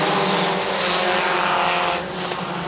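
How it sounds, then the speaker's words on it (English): Sport Compact race cars roaring off after a green flag at the Farmers Insurance 250, a loud, dense engine roar that dips briefly near the end. "Green flag, we're racing once again."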